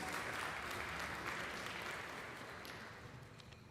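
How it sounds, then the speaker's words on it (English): A crowd at an engineering symposium applauds steadily, a soft hiss of many hands heard from a distance, slowly dying down toward the end. "A big round of applause for Mr. Friedrich Slabbert."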